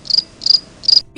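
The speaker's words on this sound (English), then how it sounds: "And that's when crickets will start doing," Crickets chirp in three evenly spaced bursts over a hush of silence, each trill bright and close, used as the classic awkward-silence cue at a physical audition.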